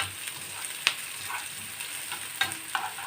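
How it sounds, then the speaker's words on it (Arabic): Onion frying in a pan with a steady, fairly soft sizzle, plus a few sharp clicks and scrapes as it is stirred. "ابتدي اقلبه بقى كده. انا البصل ده هحمره خالص"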